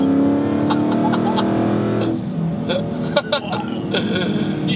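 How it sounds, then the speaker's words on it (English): 800hp supercharged Dodge Hellcat Challenger accelerating hard, a loud rising engine note with layered harmonics that cuts off after about two seconds, then quieter engine sound with a few faint short voice sounds. "The supercharger whine is so intoxicating."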